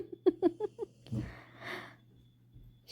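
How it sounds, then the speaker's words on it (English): A pet snores softly nearby: a rough, breathy exhale-like rasp following a few quick voiced huffs, faint and close in an otherwise quiet room. "and LV is absolutely snoring"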